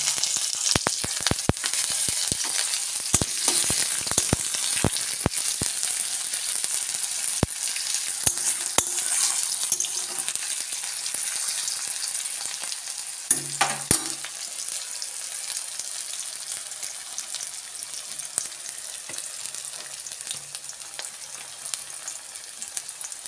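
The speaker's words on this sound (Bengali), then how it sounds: "পেঁয়াজটা আমি লাল লাল করে ভেজে নেব।" Onions frying in a pan, with a steady bright sizzle throughout and scattered sharp crackles and pops, plus a brief scrape of stirring partway through.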